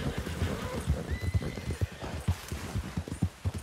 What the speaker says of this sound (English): That's a horsey. Don't shoot the horsey!